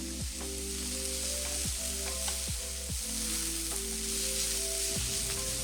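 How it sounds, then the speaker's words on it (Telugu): Sliced cabbage and broccoli sizzle and crackle in a hot pan while being stirred, with a steady frying hiss and several sharp scraping strokes of a spatula against the metal at irregular intervals, with no voices. "సన్నగా కట్ చేసి పెట్టుకున్న క్యాబేజ్ వేసి ఒకసారి కలపండి."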